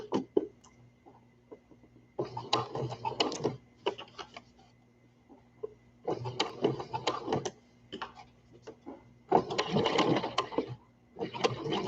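A home sewing machine stitching a baby drool scarf in several short bursts of fast mechanical whirring, separated by quiet pauses, close and moderately loud.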